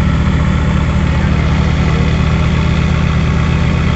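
A Mahindra 575 DI XP Plus tractor engine in a tug-of-war contest against a Swaraj tractor, giving a loud, steady, throbbing low rumble with an even mechanical beat throughout, with no talk.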